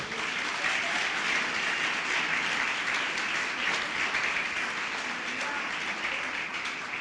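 A church congregation applauding during a sermon on salvation, healing and deliverance, dense sustained clapping from many hands that holds evenly throughout.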